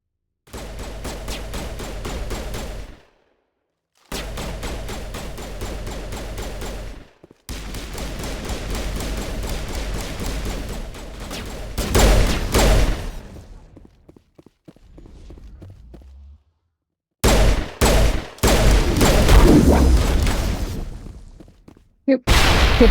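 Bursts of gunfire in the video game Mass Effect, loud rapid volleys broken by short silences, with a heavier blast and scattered shots near the end.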